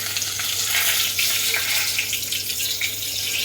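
Cumin, whole spices and two cloves hit hot oil for a dal fry tempering, giving a steady, close hiss of sizzling throughout with no talking.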